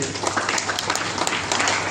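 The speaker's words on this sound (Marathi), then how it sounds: "त्यांच्यासाठी एकदा जोरदार टाळ्या झाल्या पाहिजे ते" An audience at a college lecture-series event claps loudly and steadily. The applause forms a dense, continuous wash throughout.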